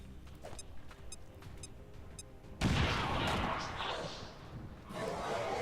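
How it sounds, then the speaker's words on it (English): A grenade goes off in XCOM 2 with a sudden heavy blast midway, following a stretch of faint ticking game sounds. A loud, rumbling roar follows and lingers, then surges again near the end. "I could just throw this nade like this and that'll get the kill"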